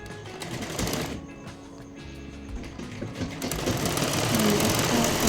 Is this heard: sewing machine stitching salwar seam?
yes